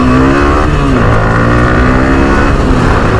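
A motorcycle engine revs close and loud as its rider pulls away, a throaty, continuous drone whose pitch rises and falls without pause.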